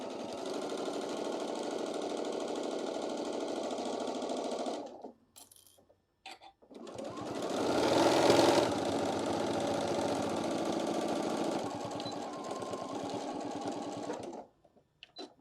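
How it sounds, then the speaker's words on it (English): A sewing machine stitches fabric for an eyeglass protector, running in a fast steady whirring rattle for several seconds, pausing with a few short clicks, then resuming, briefly louder, and stopping near the end. "can finish continuing sewing all the way around"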